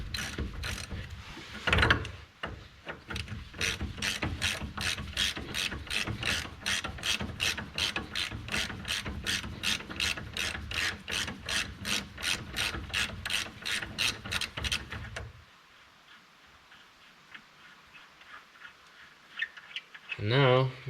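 A ratchet wrench backs out a loosened 19mm bolt on a broken truck frame, a long run of rapid, evenly spaced clicks close up, then a quieter pause before a brief final rattle.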